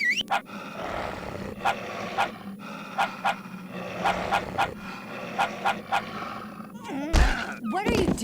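A dog in the Metal Gear Solid The Twin Snakes video game growls steadily and barks in regular bursts, with a short voiced cry near the end.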